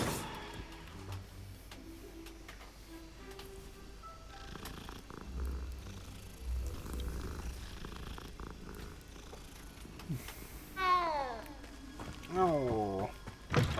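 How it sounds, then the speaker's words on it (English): Low rumbling purr from a second cat in the Hogwarts Legacy video game, followed by several rising and falling meows near the end, heard over soft game ambience and faint background sound. "And the other cat."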